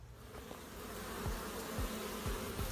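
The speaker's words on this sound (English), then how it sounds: "the sheer number of bees trying to get in and out" Honey bees crowd a busy hive entrance, their dense, continuous buzzing close and steady, with individual bees zipping past now and then as they fly in and out.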